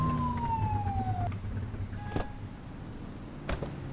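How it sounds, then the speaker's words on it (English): A police car siren in the video game The Precinct wails steadily with a falling tone, then cuts off, leaving car and street ambience with a couple of sharp knocks. "Turn that siren off."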